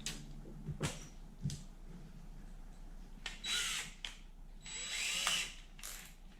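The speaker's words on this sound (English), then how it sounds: "therefore I'm going to drill 5mm hole" Short bursts of a power drill boring a 5mm hole whir at close range, separated by quiet pauses, along with a few clicks and handling knocks.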